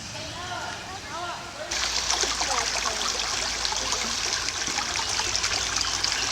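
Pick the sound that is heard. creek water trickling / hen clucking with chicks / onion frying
creek water trickling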